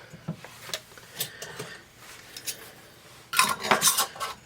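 Metal canning lids clink and tap onto glass jars of homemade beef stew, a few light scattered clicks followed by a louder cluster of metallic rattles near the end, close and without talk.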